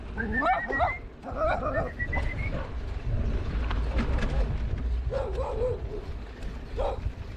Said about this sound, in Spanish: Otro perrito que me encuentro.